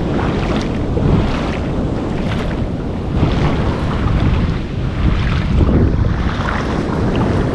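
Open Pacific sea from a small boat, with steady broadband wind buffeting the microphone and continuous wash of waves against the hull, loud and unbroken throughout.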